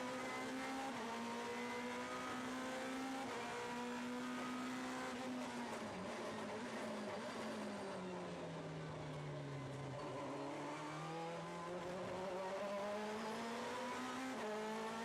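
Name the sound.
GT2 race cars accelerating out of a corner at Zolder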